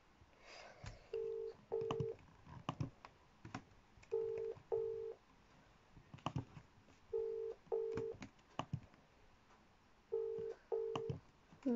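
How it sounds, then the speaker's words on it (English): An outgoing phone call gets declined, giving quiet pairs of short electronic beeps that repeat about every three seconds, with faint clicks between them. "Paige has just declined my phone call for some reason"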